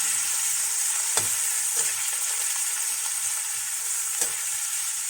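Ingredients for a Bicolano pasta dish of hotdog and chicken liver frying briefly in a pan, a steady bright sizzle throughout with a few soft knocks of stirring.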